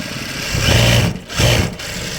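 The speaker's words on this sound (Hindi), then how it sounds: "मैं फिर से दूसरा सिलाई लगा के आपको बता रहा हूँ" An old Juki sewing machine stitches thick fabric, running loud and close in two bursts of rapid, steady stitching with a short pause between them.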